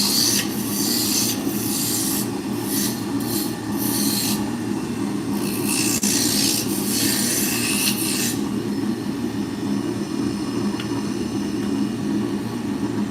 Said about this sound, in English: Then we'll take the roughing gouge, just bring it down to the lines we just put in.